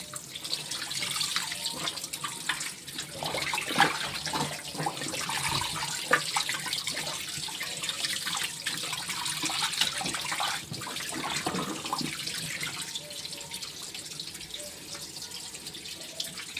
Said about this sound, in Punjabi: ਤੁਸੀਂ ਚਾਹੋ ਤਾਂ ਪਾਣੀ ਉੱਪਰੋਂ ਐਵੇਂ ਇਦਾਂ ਹੀ ਪਾਈ ਜਾਓ